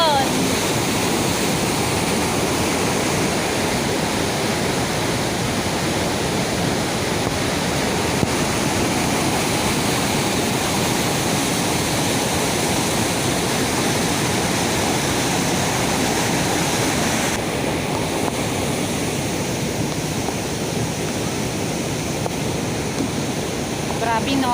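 Floodwater released from a dam rushes in a continuous loud roar during a flash flood in La Union, a steady broadband surge running unbroken throughout with no pauses.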